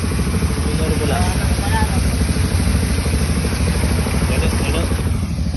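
A brand-new aerator engine runs hard with a loud, constant, buzzing mechanical roar that barely varies, heard close up while people talk over it.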